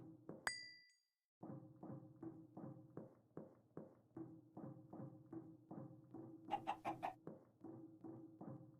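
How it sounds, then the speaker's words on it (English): Minecraft chickens clucking in a steady series of short, evenly spaced calls, with a brief clinking chime near the start and a sharper cluster of bright clucks partway through; no talking. "Chicken behind here."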